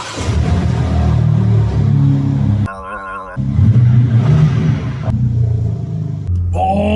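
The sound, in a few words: BMW M4 car engine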